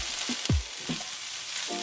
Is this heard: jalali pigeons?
no